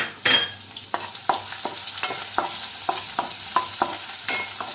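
Crushed garlic and ginger fry in a pan for eggplant thokku, with a steady sizzle and repeated stirring scrapes at an even rhythm, close and alone.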